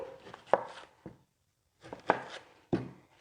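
A knife chops red onion on a large cutting board in a few sharp, close strikes, separated by short pauses and one longer silent gap, with no one talking.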